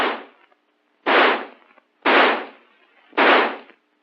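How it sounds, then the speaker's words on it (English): An M16 rifle fires three loud, sharp semi-automatic shots roughly one second apart, each followed by a brief decaying echo, with no talk. "By closing the bolt and turning the selector lever to semi, the rifle will fire semi-automatically."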